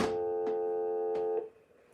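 A payphone that can be set to coin first or dial tone first gives a steady dial tone. Faint clicks fall partway through, and the tone cuts off sharply near the end, with no voices.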